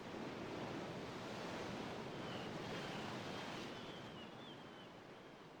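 Ocean waves at a beach in a Persona video game make a soft, continuous wash of surf, faint and steady with a light airy hiss and no talking.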